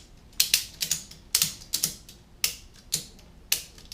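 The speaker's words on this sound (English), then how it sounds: "I just want to snug it. I don't want to over tighten it yet." A ratchet strap clicks as it is cranked tight while securing a Honda Goldwing lift, with a steady series of sharp mechanical ratcheting clacks in pairs and short groups, close and distinct with no speech.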